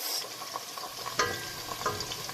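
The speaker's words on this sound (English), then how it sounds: "chopped onions, and let it fry for about" Chopped onions fry in a pan for okra soup, giving a steady close sizzle with occasional stirring scrapes and clinks.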